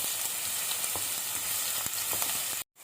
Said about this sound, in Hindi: प्याज मैंने ऐड कर दिए और इनका जस्ट कलर चेंज होने तक इसको हमने फ्राई करना है।